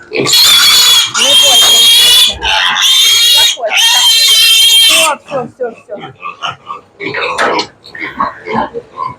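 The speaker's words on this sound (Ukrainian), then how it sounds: "а це поросятка, ті, що у нас підростають" Piglets in a farm pen let out loud, harsh squeals in several long bursts, then settle into short, choppy grunts and snorts close by while a person speaks briefly among them.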